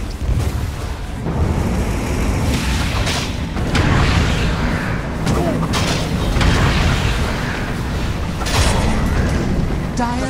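Explosions and booming attacks on a tower in the video game Dota 2, a loud, continuous barrage of repeated blasts and impacts that runs for the whole stretch with no pause.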